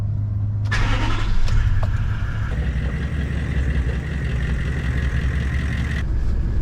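A big dual cab 4WD fires up at a remote outback spot, its engine catching with a loud rush and then settling into a steady, close idle rumble.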